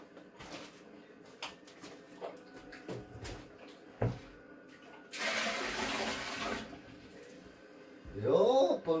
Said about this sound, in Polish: Spłukuj tą wodę, bo tam się wystrać nie da.